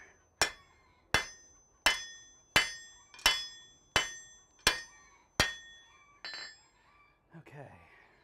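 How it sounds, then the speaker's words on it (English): A hammer polishing metal strikes about eight times at a steady, even pace in a smithy, each blow ringing with a bright metallic clink, then the blows fade out. "Hammer polishing here."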